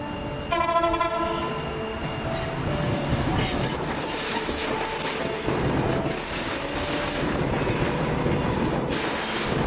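A train crosses the Jurain railway level crossing in Dhaka near the Postogola bridge: a loud horn blast opens the passage, then steady heavy rolling rumble and wheel clatter continue close by for the rest of the time.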